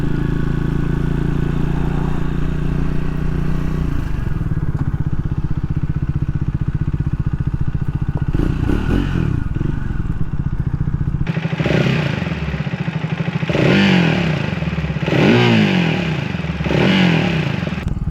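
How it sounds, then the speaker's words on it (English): A Triumph Speed 400 motorcycle rumbles at low speed through its muffler, then revs harder with rising and falling pulls as it shifts and accelerates. It is loud and close, with no talk. "It's got a really nice sound to it, the tone of that muffler."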